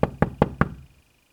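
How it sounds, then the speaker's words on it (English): Four evenly spaced, crisp knocks on a window land close by in under a second, followed by silence. "Hop to the window and knock politely,"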